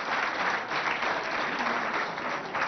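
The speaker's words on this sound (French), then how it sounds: "Applaudissez pour qu'ils regagnent leur place." A school game event audience claps steadily, a dense, even round of applause from a crowd at moderate distance.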